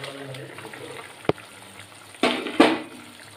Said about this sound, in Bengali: ঝোলটা ফুটে উঠেছে, এবার আমি মাছগুলো দিয়ে দেবো।